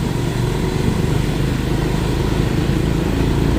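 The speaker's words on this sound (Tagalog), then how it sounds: "So dito nakikita natin yung mga pasalubong natin, mga naka-tricycle at mga motorsiklo" Motorcycles and tricycles come the other way on a mountain road in Tanay, Rizal, and their engines make a loud, steady drone that stays close the whole time.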